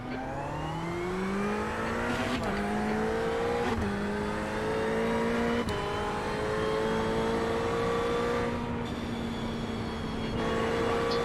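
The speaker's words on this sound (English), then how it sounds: "There's a car approaching." A Ferrari 488 GT3 race car approaches at Spa, its engine note rising steadily and dipping briefly at each upshift, loud and close throughout with no talk over it.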